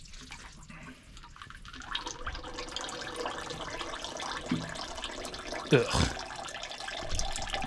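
Hydraulic oil drips and trickles from a leaking line on an old bulldozer, a wet steady patter that swells to a brief splash near the end, with one short spoken grunt.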